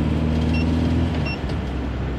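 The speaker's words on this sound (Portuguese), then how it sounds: "Vamos pisar um pouquinho. Esquentar um pouquinho o motor do Voyageira." A Volkswagen Voyage engine idles and is revved a little to warm up, a steady loud close rumble with low droning tones and a slight dip in the middle, no talking.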